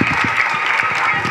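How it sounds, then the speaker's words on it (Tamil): An audience applauds students, a dense, steady burst of many hands clapping at once, loud and close throughout. "அவங்க எல்லாருக்கும் நம்ம எல்லோரும் ஒரு பெரிய கைத்தட்டு கொடுத்துடலாம் ஸ்டூடெண்ட்ஸ்க்கு."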